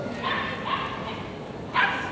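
A small agility dog at Crufts gives a few sharp yips and barks in a large indoor arena, heard under a commentator's steady talk.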